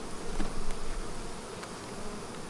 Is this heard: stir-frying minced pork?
no